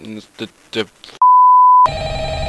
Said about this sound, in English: the guy's ringing the phone